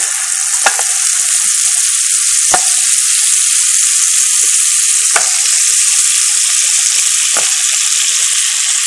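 Small squares dropped into a hot pan over medium heat while making cream of spinach set off a loud, continuous hissing sizzle, with a few sharp pops and clicks scattered through it.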